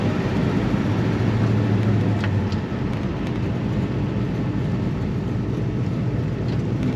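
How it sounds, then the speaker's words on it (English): Inside a 1968 Pontiac GTO convertible with the top up, driving along on a chilly day, a steady low road rumble and broad wind roar fill the cabin, loud and continuous with a slight easing midway. "the wind noise isn't too bad for a 68 convertible"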